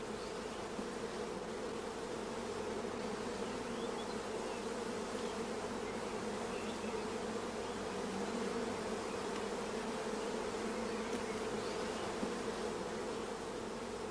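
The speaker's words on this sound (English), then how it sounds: "The attached bees are also brushed into the funnel." A mass of honey bees hums loudly and unbroken while being brushed into a funnel during queen rearing, a thick, even swarm drone throughout.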